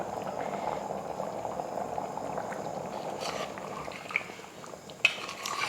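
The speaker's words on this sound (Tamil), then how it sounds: "லைட்டாக தான் கொதிச்சிருக்கு, நல்லா கொதிக்கட்டும்." Mutton biryani liquid boiling in an open pressure cooker, a quiet steady bubbling simmer close by with a couple of sharp metallic clinks near the end.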